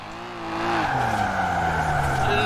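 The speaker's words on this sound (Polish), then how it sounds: "to jest standardowy silnik tej BMW" A BMW with its stock engine revs high and strains in Forza Horizon 4, tires squealing through a drift as the engine pitch slides down and climbs again, loud and steady throughout.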